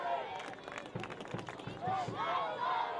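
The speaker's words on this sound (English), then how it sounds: "Crowd here pushing Loudoun on" A stadium crowd at a Loudoun United soccer match against Monterey Bay cheers and roars steadily, a broad wash of voices with scattered claps and shouts, while a commentator talks over it.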